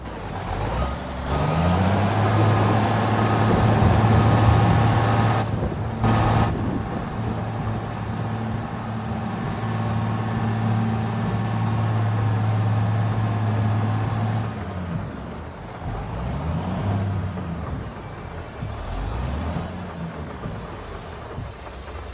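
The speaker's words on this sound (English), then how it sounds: "we're just going to back up the grain truck into the shed here" Grain truck backing into a shed in a farming video game: a loud steady diesel drone with repeating reversing beeps, an air-brake hiss, then the engine falls away to a softer, wavering idle.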